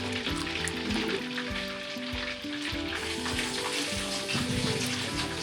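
Fried chicken, Rhode Island Red and BPR birds, cooking in a pan of hot oil, a steady dense crackle and sizzle running throughout with a brief dip midway, close and fairly loud, no talking.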